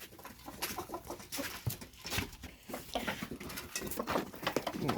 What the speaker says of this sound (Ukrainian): Ось їдять кури.